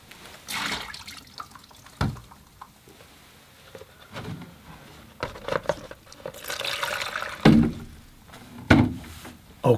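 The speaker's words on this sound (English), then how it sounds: "I gotta empty my water bucket." A painter's water bucket being emptied and refilled for watercolor work, with splashing, sloshing and pouring bursts of water that come and go irregularly at close range, with no talking.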